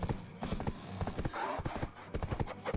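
Horse hooves clip-clop in the online game Black Desert, a quick, steady trot of sharp clacks running throughout at a moderate, fairly quiet level, with no voices.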